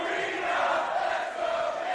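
A wrestling crowd splits into rival cheering sections, roaring and chanting loudly in a continuous, dense wash of voices with no commentary on top.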